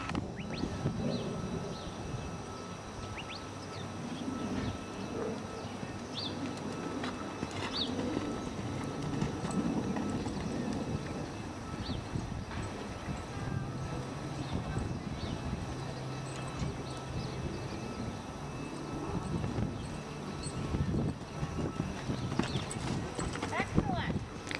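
Horse hooves clip-clop steadily on a riding horse, mixed with an occasional whinny, continuous stable or arena background and people talking nearby.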